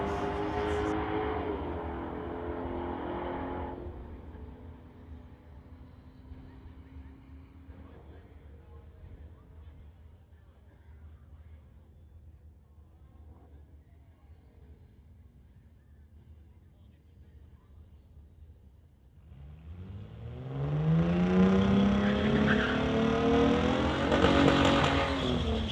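A Corvette and a Mustang race at a drag strip, with loud engine roar at first, then a quieter stretch with commentary, before hard revving engines and squealing tires surge loudly near the end.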